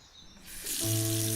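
Carrots rinsed under a running kitchen tap, a steady broadband water rush that starts softly and swells louder partway through, with a low humming tone joining near the end.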